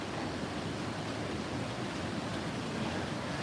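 River water runs high after rain, a steady broad rushing wash with no breaks, moderately loud and close, with no voices over it.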